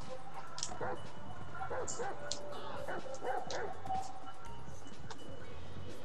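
Dog barking and yipping in the video game GTA V, a few short barks scattered through a busy, noisy game scene with a steady background bed.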